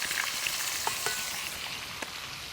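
Hot oil sizzles steadily as asafoetida is added for a Kathiawadi stuffed chilli curry, with a soft crackle and a few sharp pops and spatters close by. No one speaks.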